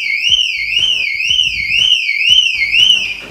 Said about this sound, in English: If you hear that alarm sounding now